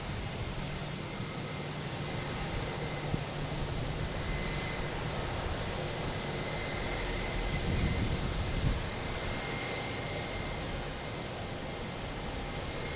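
An Iberia Airbus A321neo airliner arriving from Madrid at Boston Logan Airport rumbles and whooshes steadily at a distance, a broad engine roar with wind noise that swells slightly midway.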